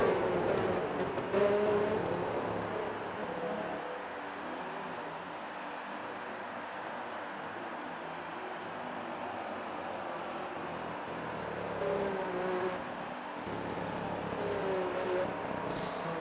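Race cars in an Xbox racing game at the Abu Dhabi Grand Prix circuit sweep past beneath the hotel, a faint broad roar that swells and fades at the start and again near the end, steady hiss between.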